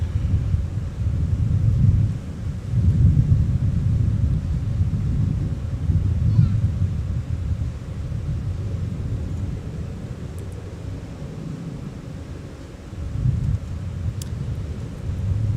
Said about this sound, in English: Delta 1105 jetting off to Indianapolis.